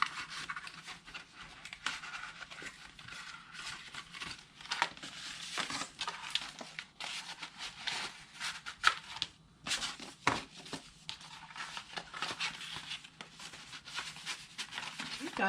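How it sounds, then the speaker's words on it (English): Paper cards and envelopes are fitted into a small craft holder, with soft crinkling, rustling and sliding of paper close to the mic in irregular bursts, faint and continuous throughout. "Let's fit these cards and the envelopes in here."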